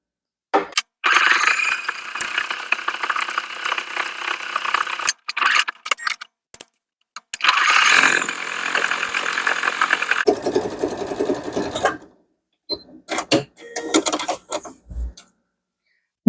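A sewing machine stitches a fabric keychain strap with a quarter-inch seam, running in loud, close bursts of rapid mechanical whirring separated by short pauses.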